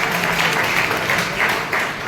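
Sustained audience applause fills a lecture hall at a B.Ed. college in Bhadra, Rajasthan, steady and dense for about two seconds with slight swells.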